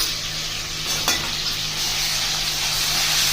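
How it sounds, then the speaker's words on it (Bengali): Onion paste for chicken korma frying in a hot pan, a steady close sizzle with a sharp scrape of stirring about a second in. "পেঁয়াজটাকে আমি ভালো করে কিছুক্ষণ নেড়ে ভাজা ভাজা করে নিব।"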